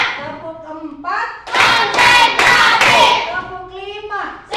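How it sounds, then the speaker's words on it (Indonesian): Schoolchildren in a classroom clap their hands in a counting routine: a burst of several sharp, loud claps in the middle, framed by children's voices chanting before and after. "Tepuk empat."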